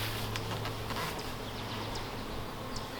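Steady buzzing of bees at the entrance of a calm, newly established hive during an inspection after a light puff of smoke, a continuous close drone with no talking.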